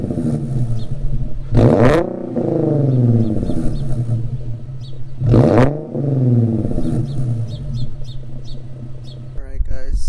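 Infiniti Q50 with the 3.7 engine and a muffler delete, heard from inside the cabin: a steady droning exhaust with two loud revving surges, each falling back to a rumbling cruise.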